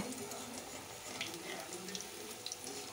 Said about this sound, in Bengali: এখন এই যে বেগুনিগুলো ভেজে নেওয়া হচ্ছে